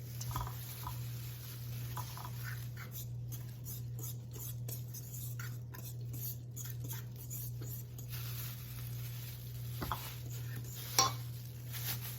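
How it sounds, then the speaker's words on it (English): Light brown sugar and a pinch of salt are stirred together in a bowl, giving quiet, soft scraping and light clinks of a utensil against the bowl, close but faint, with no voices. "Our light brown sugar, pinch of salt, and we're just going to mix it."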